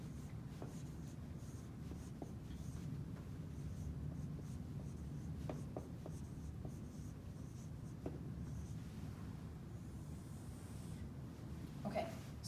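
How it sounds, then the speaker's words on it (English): Writing on a classroom board during a biology lecture on photosynthesis: quiet, steady scratching strokes with occasional small taps, faint and close, with no speech over it. "So let me write that on the board."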